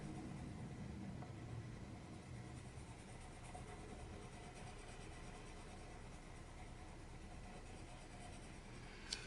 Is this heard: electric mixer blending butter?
no